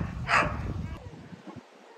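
A sheepdog working rams on a farm gives a single sharp bark over outdoor wind noise, followed by fainter scuffling as the animals move.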